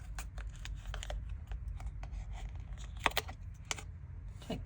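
Scissors snip through yarn while a knitted vest is being finished, giving a few crisp, close cutting clicks among soft handling sounds, with no one talking.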